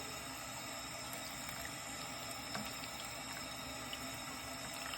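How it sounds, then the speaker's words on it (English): Fresh water from a turned-on tap runs into a bucket, a steady, soft, continuous splashing hiss with no pauses or voices. "I turn fresh water on and catch it in the bucket."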